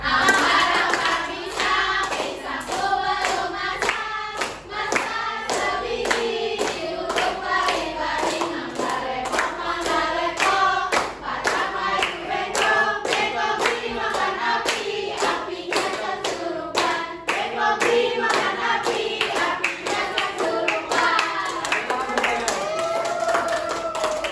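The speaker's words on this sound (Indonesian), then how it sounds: "Tapi tepuk tangan tapi ya." Children in an elementary school classroom clap their hands in a steady rhythm, the claps running throughout beneath their singing voices.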